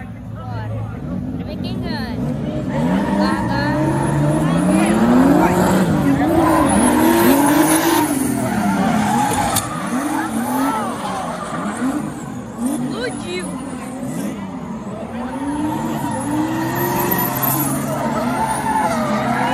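BMW drift cars battling at a Brasília drift championship event, engines roaring and revving with long swooping tire squeals and skids, loud and continuous under an excited announcer's commentary.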